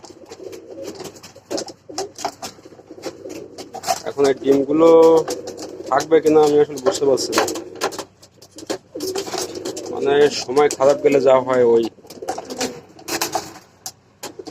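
Caged pigeons being moved coo in low, throbbing bursts, loud and close, mixed with wing flutters and rattling. Someone speaks calmly over and between the coos.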